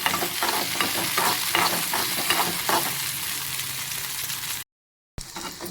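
Ginger, garlic, green chili and cumin seeds frying together in a pan, a loud close sizzle with rhythmic stirring scrapes that eases off, then cuts to a brief silence before the sizzle resumes.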